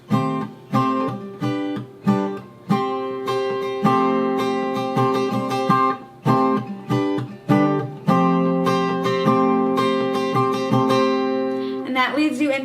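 Acoustic guitar strumming the chords of a song's bridge, a steady pattern of down and up strokes with ringing chords, close and clear, played alone without talk before the final chord swells.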